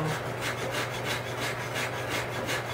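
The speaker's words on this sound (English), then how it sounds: "every once in a while I will shift to this finer little rasp to get areas underneath" Rhythmic back-and-forth strokes of a wood rasp filing down a wooden piece, a close, steady scraping texture repeating evenly throughout with no voices.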